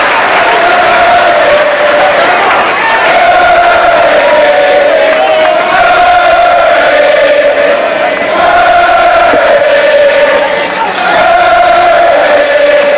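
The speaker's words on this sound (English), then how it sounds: "Crowd, Aggie crowd, of course, yelling Curry, trying to shake Curry harden up." Texas A&M Aggie home crowd at a 1989 college baseball game against Texas, yelling steadily and loudly in a sustained roar with rising and falling shouts, a dense wall of voices throughout.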